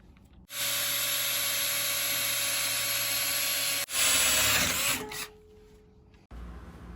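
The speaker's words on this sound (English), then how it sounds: "So I'm going to drill a hole into the bracket." A power drill bores a hole through a plastic bracket, a steady high whine running loud and close for several seconds, briefly cut, then a shorter burst before it winds down to a lower hum.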